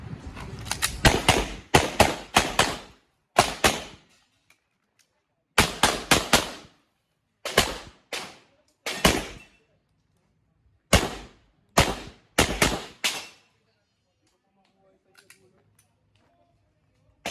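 Gunfire on a firing range during a firing day, sharp reports in rapid groups of two to five shots separated by short silences, loud and fairly close, with voices heard faintly.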